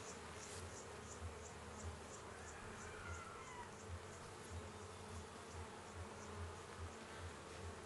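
Honey bees hum steadily inside an opened backyard beehive in summer, a dense, continuous buzz close by with individual insects droning past, and no talk heard.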